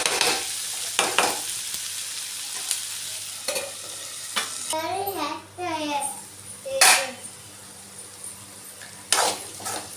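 Potato and capsicum pieces frying in oil sizzle softly while a spatula scrapes and stirs in irregular strokes nearby, and voices, including a child's, talk over it partway through.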